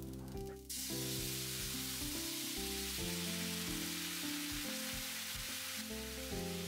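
Daikon fries in a pan with a soft, continuous sizzle and hiss, close but quiet and without voices, over a faint steady background hum.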